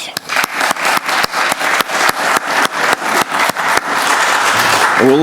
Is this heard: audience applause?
yes